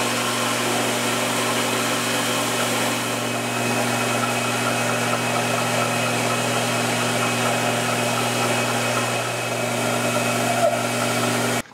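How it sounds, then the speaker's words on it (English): Belt sander running steadily up close as it shapes a piece, a continuous machine drone with a faint grinding edge that holds at an even level from start to finish, with no talking. "we're gonna head on over to the belt sander and work on getting this down to a shape"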